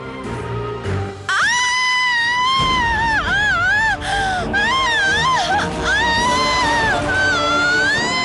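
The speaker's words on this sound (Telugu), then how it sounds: "ఏమైంది? ఎందుకలా అరుస్తున్నారు?" A woman screams at length in a TV serial scene, loud, piercing and wavering, with breathy cries and gasps between long, rising and falling wails.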